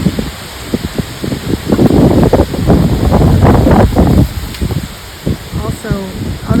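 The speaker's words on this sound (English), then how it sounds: "This wind is dangerous, so I'm standing right by her to make sure no hawk comes down." Strong gusts of wind buffet the microphone outdoors, coming in loud, rough bursts of rustle and rumble that rise and fall unevenly, with a brief chirp near the end.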